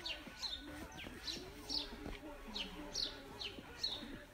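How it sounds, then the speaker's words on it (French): Birds chirping outdoors during a home workout session with music, faint repeated high chirps arriving at a steady pace over soft background music and low sounds. "Vous entendez les oiseaux en plus de la musique?"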